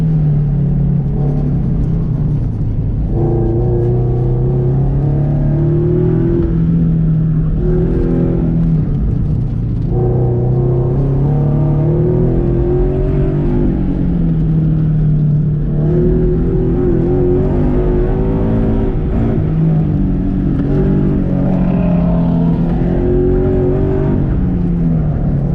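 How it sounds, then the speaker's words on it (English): A Scion FRS sports car engine drones loudly and continuously from inside the cabin during an autocross run, its pitch rising and falling as it repeatedly hits the rev limiter. "Rev limiter, dude."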